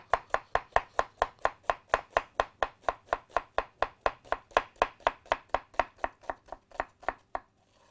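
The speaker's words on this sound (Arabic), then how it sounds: "عايز بصل ابيض ايه شرايح رفيعه خالص خالص خالص" A knife slices a white onion very thinly on a board, a fast, even run of about thirty crisp chops at a steady rhythm, close and clear, ending in silence.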